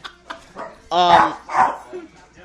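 A dog gives a couple of sharp, excited barks and yelps close by, mixed in with people talking.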